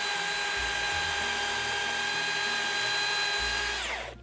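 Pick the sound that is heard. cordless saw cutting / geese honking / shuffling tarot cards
cordless saw cutting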